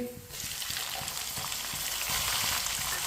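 Finely chopped tomatoes hit a pan of browned ginger and garlic for a black chickpea curry. A loud, dense sizzle bursts in right away and keeps hissing strongly throughout, with faint stirring taps beneath.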